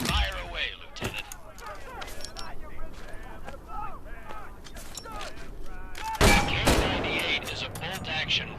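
Karabiner 98K bolt-action rifle shots in the video game Medal of Honor VR: a few sharp, loud cracks spaced seconds apart, with game effects and a voice talking throughout.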